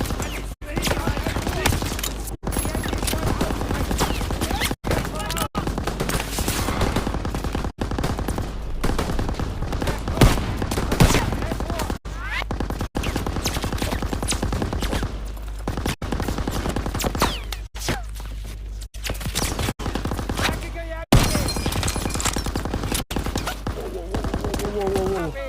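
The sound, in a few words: machine gun fire in the video game Call of Duty WW2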